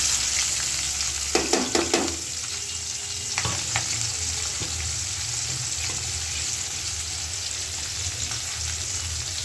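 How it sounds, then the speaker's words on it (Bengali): Onions and chilies frying in a pan, a loud close sizzle with a few sharp clanks and stirring scrapes early on, then settling into an even hiss. "আর এদিকে যে আমি পেঁয়াজ আর মরিচ দিয়ে দেব।"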